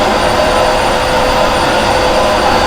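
A Riccar R40P vacuum cleaner runs on its bypass motor, a loud, constant whooshing roar with a steady motor whine, close up and unbroken throughout.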